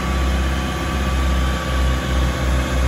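SEAT Leon FR engine held steady at about 1800 rpm during turbo cleaning, a loud, continuous low hum and drone recorded close, with no voices.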